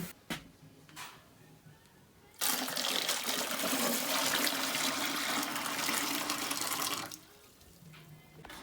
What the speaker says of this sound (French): on va mettre 4 remplissages de ce récipient dans nos chaudières pour avoir une quantité d'eau égale